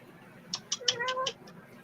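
A cat gives a short run of several close, plaintive meows, loud and clear against a quiet indoor room.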